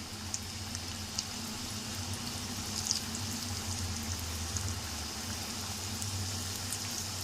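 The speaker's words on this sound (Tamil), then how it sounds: "எண்ணெய் நல்லா காயுது கொஞ்சம் நல்லா மெதுவாக போடுங்க ஃப்ரெண்ட்ஸ்" Onion samosas deep-fry in hot oil at a roadside stall, a steady, even bubbling hiss that runs throughout with faint crackles and no voices.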